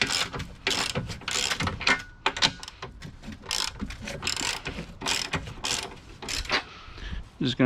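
A socket ratchet clicks in rapid bursts while breaking loose and turning nuts during a cold air intake install on a 2019 Ford Mustang GT, with a busy mix of ratcheting and metallic handling sounds throughout.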